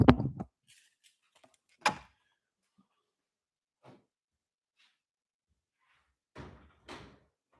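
A door is handled and shut indoors, with a sharp knock and clatter at the start, a second thump a moment later, and a few faint rustles and bumps after it.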